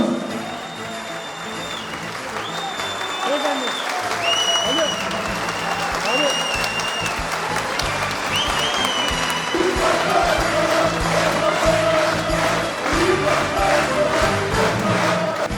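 Applause and cheering from an indoor crowd at an Istanbul election-campaign meeting with local tradespeople as a mayoral candidate is welcomed, steady and sustained throughout, with voices shouting over the clapping.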